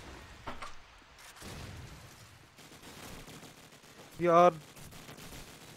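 Call of Duty 4 gunfire crackles in scattered, fairly quiet bursts during an online match, and near the end a voice cuts in loudly over the game.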